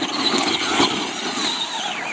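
A Traxxas Bigfoot RC monster truck's electric motor revs under throttle, a steady whining buzz with a brief surge in the middle, heard up close with no talking.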